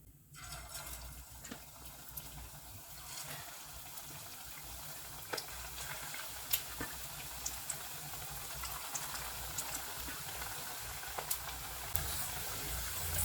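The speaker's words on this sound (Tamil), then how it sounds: "இப்போ நம்ம தட்டி வச்சுருந்த வடையை ஒன்று ஒன்றா போட்டு ஃப்ரை பண்ணிக்கலாம்." Onion vada frying in hot oil, a steady soft sizzle and bubble with faint crackles and pops scattered throughout, quiet and continuous.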